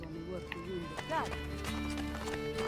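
A horse gallops in Assassin's Creed: Brotherhood, giving rapid hoofbeats and a brief whinny beneath game music and spoken character dialogue.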